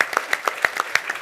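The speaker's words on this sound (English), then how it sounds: "I'm sorry, we should clap." A few people clapping at a captains' lunch event, roughly eight distinct, evenly spaced claps close by, sparse rather than a full crowd ovation.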